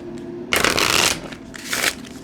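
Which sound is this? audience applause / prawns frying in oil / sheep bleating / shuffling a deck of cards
shuffling a deck of cards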